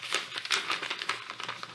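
A sheet of paper crinkles and rustles in quick, close bursts as it is rolled up by hand into a tube, with no talking.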